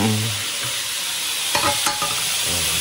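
Kimchi fried rice with meat sizzles in a pan while a utensil stirs and scrapes it from the bottom, a steady close hiss with a few sharp scraping strokes and no talking.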